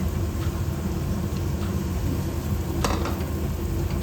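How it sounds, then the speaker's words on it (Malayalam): Chopped medium onion frying in a hot pan with garlic, a steady, close sizzle throughout with a brief stirring scrape near the end, no talk. "ഇനി ഇതിനകത്ത് ഒരു ഇടത്തരം സവാള അരിഞ്ഞത് അത് ഇട്ട് കൊടുത്തേ."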